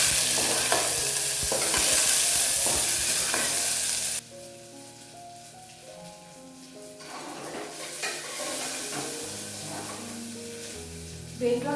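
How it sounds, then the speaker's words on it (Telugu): Onions are stirred in a pot for a one-pot tomato pulao made with little oil. A loud sizzle and scraping strokes run for about four seconds, then drop to a quieter sizzle with occasional clinks. "ఆనియన్స్, ఇంకా బాగా కలుపుకోవడం"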